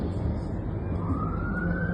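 A siren wails over a steady low rumble of traffic, its tone slowly rising, fairly distant and continuous.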